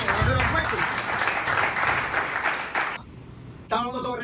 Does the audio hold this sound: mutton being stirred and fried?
no